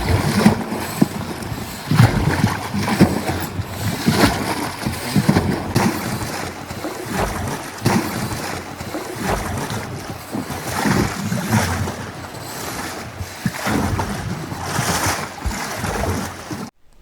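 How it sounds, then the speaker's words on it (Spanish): Indigo (Indigofera suffruticosa) dye is beaten in water, a continuous churning splash and slosh with rhythmic surges, steady and fairly loud throughout with no talk. "El batido de el añil que está todavía disperso en el agua es un proceso verdaderamente sorprendente"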